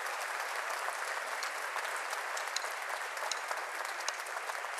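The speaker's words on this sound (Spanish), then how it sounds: "les podemos brindar un aplauso" An audience applauding musicians at a live concert show, dense steady clapping from a large crowd that holds evenly at a moderate level throughout.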